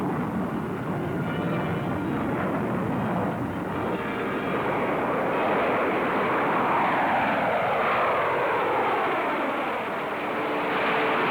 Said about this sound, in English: We had the fast and versatile fighter aircraft of our tactical forces